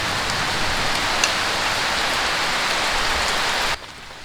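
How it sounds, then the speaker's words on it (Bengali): Steady, close rain pours down on surfaces in a dense, even hiss, then cuts off abruptly near the end. "আর বৃষ্টি তো করতেই আছে"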